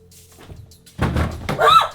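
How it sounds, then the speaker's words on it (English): A door in a supposedly haunted house gives a sudden loud thunk and rattle after a quiet stretch, as though someone tried the knob; the clatter continues briefly up close. "The doorknob was jiggling."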